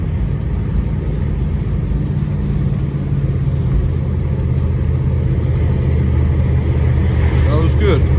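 A 5.2-litre Jeep ZJ engine held at steady throttle, a loud continuous low rumble that stays even throughout with no clear rise or fall in revs.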